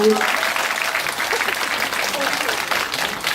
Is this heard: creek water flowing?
no